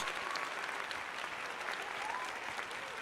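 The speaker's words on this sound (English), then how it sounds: "So let's give him a round of applause" Applause from a crowd at a Phillies spring training baseball game, steady and moderately distant, a continuous patter of clapping for a Wall of Fame inductee.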